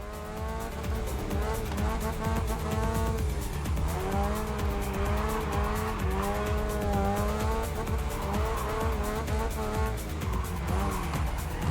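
Race cars in the video game Wreckfest 2 roar and squeal their tires through a skid, with a loud, continuous engine drone and wavering tire screech close up for the whole stretch.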